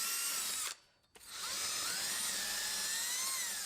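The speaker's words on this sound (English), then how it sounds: "I'm literally gonna do this with a drill." Power drill with a cleaning attachment scrubbing rust off a car brake hub, a steady high whirring grind that cuts out briefly after the start, then resumes and runs on loud and close.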